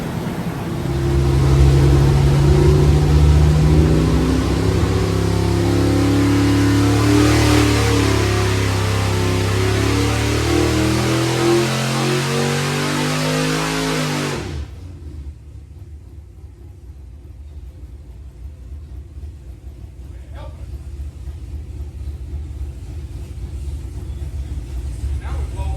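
A TrickFlow 270-headed 512 stroker engine roars loud and steady on a dyno, its heavy low rumble holding for about fourteen seconds before cutting off, leaving quieter idle-like noise and a few faint clicks.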